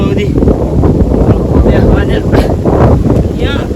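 Strong wind buffets the microphone in heavy, rumbling gusts, loud and close, while voices talk underneath.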